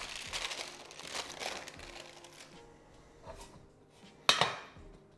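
A protein-packed three-ingredient keto pizza crust is flipped onto a baking tray, with crinkly paper rustling and soft handling noises followed by one sharp, close clatter near the end.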